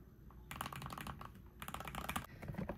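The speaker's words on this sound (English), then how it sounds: "Check out that sexy keyboard." Rapid, clicky keystrokes on a computer keyboard, heard close up in two dense bursts with a short pause between, no voices.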